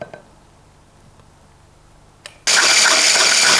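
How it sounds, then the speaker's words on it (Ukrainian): An electric mixer starts up and beats butter with sugar and honey, a loud, steady whirring that switches on abruptly after a quiet stretch and carries on without a break to the end. "Збиваємо масло з цукром та медом."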